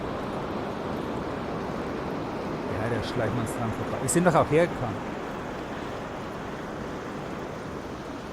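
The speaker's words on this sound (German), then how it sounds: "Die Wasserfälle, die sind ansonsten zu laut." Waterfalls in the video game Harkon - The BountyHunter give a steady, rushing wash of water noise that runs unbroken through the clip at a moderate level, while people talk over it.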